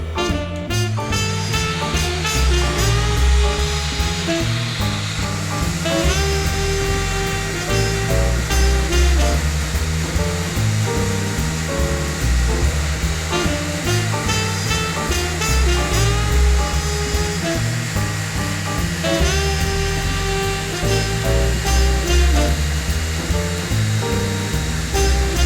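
A Festool ETS 150/3 random orbital sander runs steadily on a wooden workpiece with dust extraction, giving a continuous loud whirring hum and hiss with slight variations as the pad is worked across the surface.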